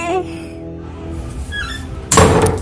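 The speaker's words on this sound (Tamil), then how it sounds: "என்ன கதவு தன்னால பூட்டிட்டு" A door in a Tamil cartoon slams shut with one sudden, loud thud that cuts in after a few seconds of quieter tonal background sound.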